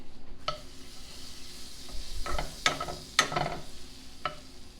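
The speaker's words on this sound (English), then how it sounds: "you're going to gradually add in some flour and kind of whisk it in with your wooden spoon" A wooden spoon stirs flour into melted butter for a roux, the base of old-fashioned macaroni and cheese, giving soft scraping strokes over a faint sizzle with a few sharper knocks against the pan, close and unaccompanied by voices.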